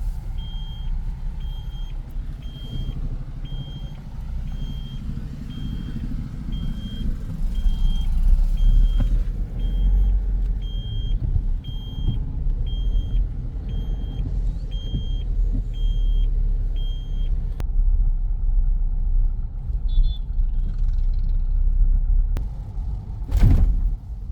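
Road construction work in Pandharpur: heavy trucks rumble close by with a steady engine drone, while a vehicle's reversing alarm beeps at a regular rhythm for much of the time before stopping.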